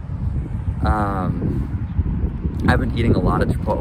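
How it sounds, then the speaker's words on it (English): Strong wind buffets the microphone outdoors in a city, a steady low roar running under a person talking throughout. "Sorry if you can hear the wind."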